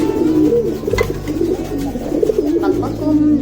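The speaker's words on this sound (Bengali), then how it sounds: "বাকবাকুম বাকবাকুম করতেছে আমার পায়রাগুলো" Pet pigeons coo steadily in a low, rolling murmur, close and loud, with soft flutters mixed into the continuous cooing.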